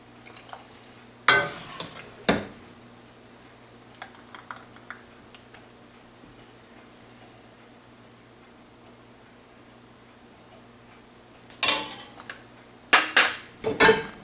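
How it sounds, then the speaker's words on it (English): Hot glass jars being filled with blackberry jam, a few sharp clinks and scraping knocks of a ladle against glass in short clusters near the start and end, with quiet gaps between. "we're going to ladle this jam into the jars"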